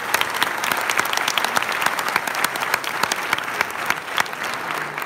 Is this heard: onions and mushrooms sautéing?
no